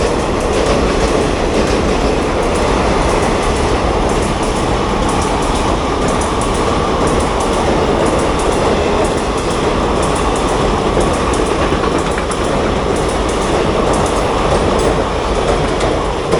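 A train rolls past at Neral station, loud and close, a steady dense rumble with wheel clatter and faint squeal lasting throughout, no voices.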